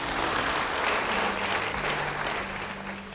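Congregation applauding a speaker during a church sermon, dense steady clapping from many people filling the space, loud and continuous with a faint low hum beneath.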